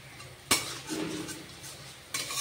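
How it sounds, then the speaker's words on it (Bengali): A spoon scrapes and clinks in a pan as masala with salt and turmeric is sautéed for a chitol fish kalia, with two sharp knocks of metal on metal over a faint sizzle and no talking. "এই মশলাটাকে খুব সুন্দর করে কষাবো।"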